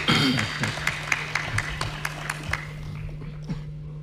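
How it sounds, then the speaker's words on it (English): Audience applause at a Ugandan presidential debate night, a round of clapping with scattered sharp claps that thins out and fades toward the end, heard alone without talk. "A round of applause for him."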